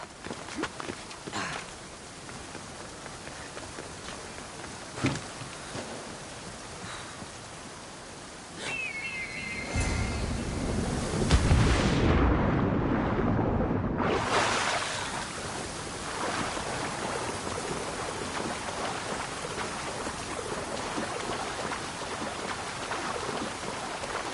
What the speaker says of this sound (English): This is the waterfall.